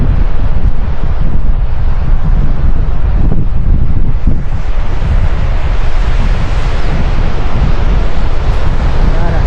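Sea waves surge and crash continuously at a flooded shore strewn with seaweed, while heavy wind buffets the microphone close up, loud and unbroken throughout.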